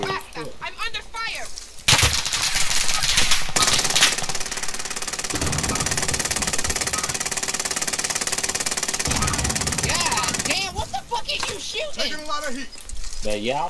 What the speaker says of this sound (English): I'm being shot from across this little valley.